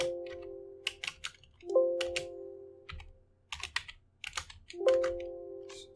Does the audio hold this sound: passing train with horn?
no